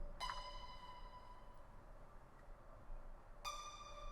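A faint synth pluck in a psychedelic beat: two short bright plucked notes, the first decaying into a long ringing tail, the second arriving a few seconds later, with no other sound.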